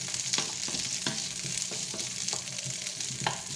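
Beef pieces browning in a hot pan for boeuf bourguignon, a continuous bright sizzle with soft periodic scraping as the meat is moved around, close and steady with no talking.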